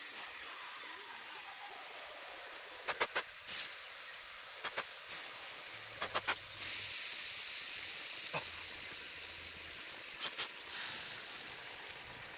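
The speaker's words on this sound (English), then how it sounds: "now I'm going to put the hot rocks in, hopefully boil it" Hot rocks dropped into water in a burned wooden bowl set off a soft, continuous sizzling hiss, broken by a few sharp crackles and pops.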